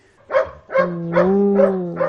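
Dogs left behind near the Fukushima nuclear plant bark in a series of four or five loud, close barks, some stretching into whining, howl-like tones, with no voices over them.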